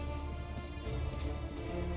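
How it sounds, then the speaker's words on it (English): Steady, dense rain in the video game Hitman 3 hisses and patters continuously, with no voices or other distinct sounds. "I hope you like the rain"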